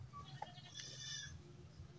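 A goat bleats once, a short wavering cry over a steady low farmyard hum, with a few faint higher calls around it on a farm with pigs, ducks and turkeys.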